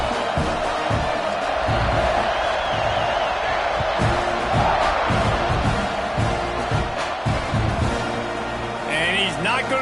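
A football stadium crowd cheers and roars as the teams line up for kickoff, a broad sustained din with whoops and shouts, heard under a broadcast commentator's talk.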